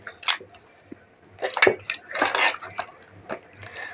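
Ladi pav dough is kneaded by hand in irregular bursts of wet squishing, slapping and pressing, with quieter gaps between strokes and no voices.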